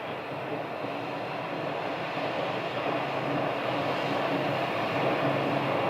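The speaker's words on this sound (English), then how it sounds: "that's another one of those small Cessna aircraft" A small Cessna aircraft passes over a runway in Scottsdale, its engine a steady, broad drone that holds at an even, moderate level and swells slightly toward the end, with no voices.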